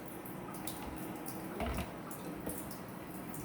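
Boiling water poured into cornmeal for hot water cornbread: a short, close stream of liquid splashing and trickling into a bowl, with a brief heavier gush near the middle.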